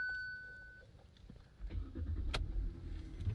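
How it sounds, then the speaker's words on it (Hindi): A Hyundai i20 2021 with a 1.2 litre Kappa petrol engine cranks briefly and catches, then settles into a low, steady idle, heard close up after a quiet interior chime. "आइए गाड़ी को स्टार्ट करके देखते हैं।"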